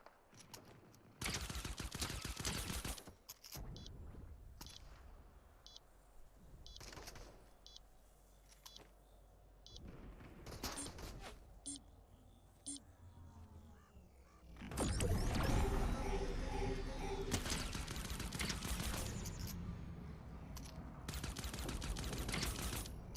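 Pistol shots ring out in Fortnite, sharp single cracks in irregular bursts with a denser volley of gunfire toward the end, loud and close with little else around them.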